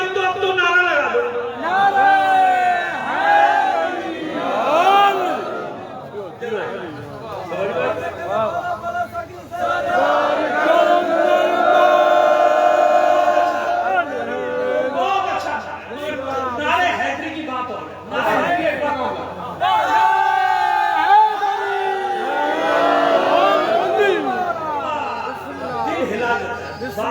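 A crowd at a religious gathering in Larkana, Sindh, on 8 Zulhaj shouts slogans in loud unison bursts, with many voices rising together, breaking off and resuming.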